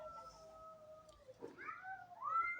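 A cat meows faintly a few times in a garden in Turkey, drawn-out wavering cries with a brief rustle between them, fairly quiet and distant.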